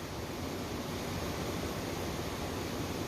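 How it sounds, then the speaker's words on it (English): Heavy rain pouring onto a workshop roof, a dense, steady roar with no break or variation, loud and close, heard alone without any talking. "It's pouring down rain outside right now"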